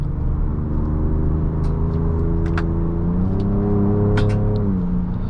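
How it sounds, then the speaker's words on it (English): A twin-turbo V6 in a 2024 Ford Ranger Raptor hums steadily from inside the cabin, its low harmonic drone rising and shifting in pitch as the truck accelerates, with faint clicks and ticks over the constant engine note. "still have fun with this twin turbo V6, which is really fun to play around with"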